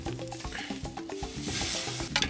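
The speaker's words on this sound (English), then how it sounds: "Once the lamb is seared on the bottom, you can turn it over" Lamb sears over charcoal in a vented grill and is turned over, a loud steady sizzle broken by scraping and clattering handling noises close up, with no voices.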